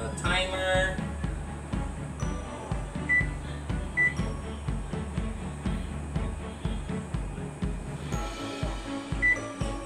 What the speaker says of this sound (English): I'll just set my timer for 45 minutes